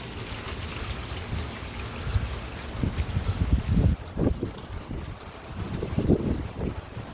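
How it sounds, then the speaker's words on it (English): Strong wind gusts roar across the microphone during a Hurricane Dorian feeder-band squall near Boynton Beach, with rain falling; the blustery noise is steady and loud, swelling in bursts through the middle. "Not a bad gust."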